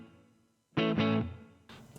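A Maybach Lester Edelweiß '72 electric guitar, played through a tube compressor and amp with plate reverb, gives two quick bright strummed chords that ring out and fade into a reverb tail, then a softer third chord.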